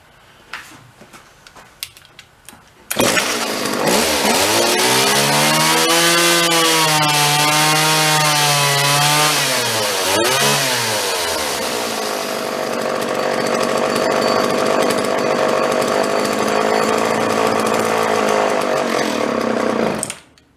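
A salvaged John Deere chainsaw starts after a few tugs and clatters, then runs loud and close for the rest of the clip, its engine whine climbing and dipping as the throttle is worked before settling into a steady high idle.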